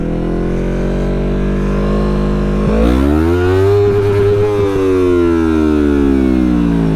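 The engine of a Yamaha MT-03 stunt motorcycle idles low and then revs up sharply during a ride. Loud, rising engine tones swell and dip several times close to the microphone.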